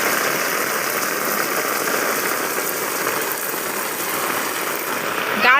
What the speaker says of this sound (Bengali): দেখো কত সুন্দর বৃষ্টি হচ্ছে